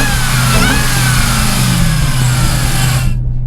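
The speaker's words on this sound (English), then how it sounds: "the engine sounds great, and you can hear all of those horses going out the exhaust" Supercharged 6.2-liter V8 of a 2015 Dodge Charger SRT Hellcat revving loudly and steadily up close, a deep sustained engine roar with rising pitch that cuts off abruptly at the end.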